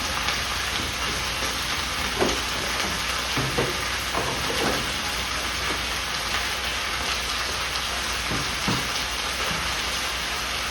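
Onions sizzling and frying in a pan while making mint chutney, a steady, fairly loud crackling hiss with scattered sharper pops throughout, no talking.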